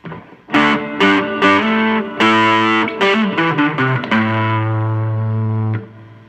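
Heavily distorted electric guitar chords ring out with a roomy reverb tail, ending on a long sustained note before cutting off.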